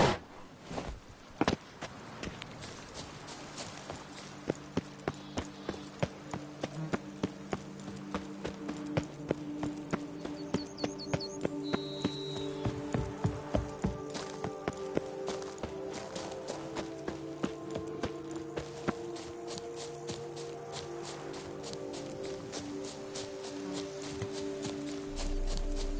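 The horse Roach gallops in The Witcher 3 video game, steady rapid hoofbeats clip-clopping throughout over a sustained musical backdrop, with a faint whinny, close and continuous.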